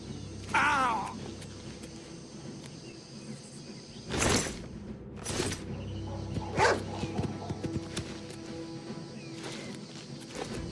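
A dog barks in The Elder Scrolls IV: Oblivion Remaster, with a burst of barks near the start and a few louder sharp yelps and growls later, over faint game ambience.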